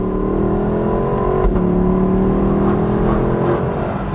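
A 2022 Lexus LC 500 convertible's engine pulls hard under acceleration, a steady loud drone with rising harmonic tones and a slight shift in pitch midway, close and continuous throughout.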